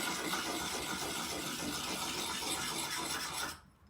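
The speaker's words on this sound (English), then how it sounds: "I'm going to work on the 180 grit there, and in a light circular motion take that down the length of the blade" A knife blade is sharpened on a 180 grit diamond sharpener in light circular strokes, giving a close, continuous dry rasping that runs steadily and then stops abruptly near the end.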